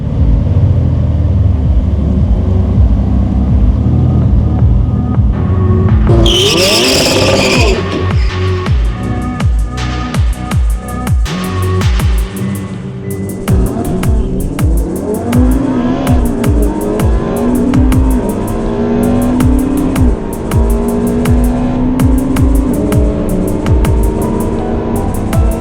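A drag race car at Santa Pod launches hard with tyre wheelspin: a loud engine rev and sharp squeal burst, then a rough, crackling high-rev roar that rises and falls with strained acceleration, close and dominant throughout.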